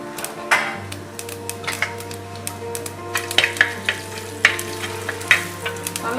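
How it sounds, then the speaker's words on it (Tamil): Mustard seeds, cumin and fenugreek sizzle and pop in hot oil in a clay pot, giving a steady crackling hiss with frequent sharp spits and a low hum underneath. "பொரிய விடணும்."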